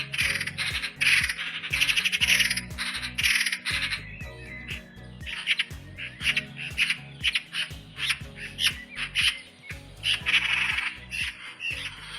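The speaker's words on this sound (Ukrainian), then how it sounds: "Давайте послухаємо, як кричить сорока." Loud, harsh magpie chatter repeating in rapid rattling bursts, near and continuous, with a few short pauses between calls.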